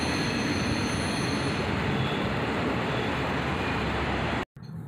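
A freight train's last cars roll past close by, among them a graffitied Conrail car, as a loud, steady rumble and clatter with high wheel squeal that cuts off abruptly at the end.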